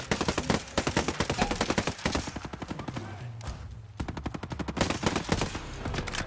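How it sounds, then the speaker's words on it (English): Rapid automatic gunfire from Ghost Recon Breakpoint, played as a four-player co-op game, rattles on in dense, close bursts laying down cover fire, with a short lull midway before the shooting resumes. "I'll try to give you some cover fire."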